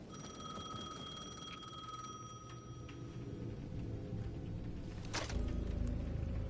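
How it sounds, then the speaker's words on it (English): Payphone at the edge of a plaza ringing in the video game Alan Wake 2, a steady electronic ring running throughout over a dark ambient rumble, with a louder swell near the end. "The payphone at the edge of the plaza was ringing again."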